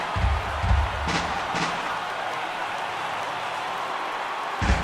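A crowd of more than 36,000 in a baseball stadium in a video game rises with a steady broad roar, with a few dull thumps at the start and end.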